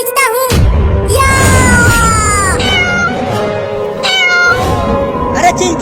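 A kitten meows loudly and repeatedly in a series of drawn-out, wavering cries, with a voice-like sound mixed in around them.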